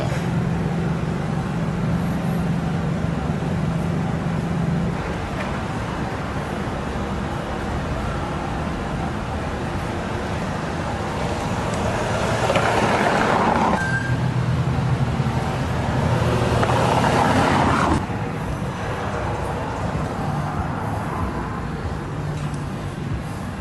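Road traffic congestion at a Burbank intersection near Alameda, Lima and Avon: a continuous hum of idling and moving cars, with a louder vehicle noise swelling in the middle before settling back.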